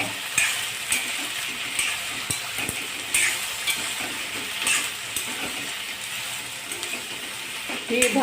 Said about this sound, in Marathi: आता व्यवस्थित परतून घेणे